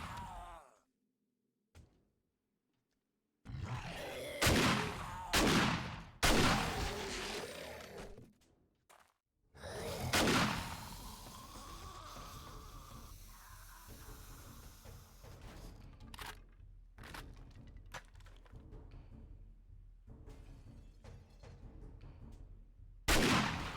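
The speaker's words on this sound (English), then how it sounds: "Lob it in there. This is the grenade launcher." Grenade launcher firing in the video game 7 Days to Die, several loud booming blasts in bursts with gaps of silence, followed by a sustained rumbling barrage.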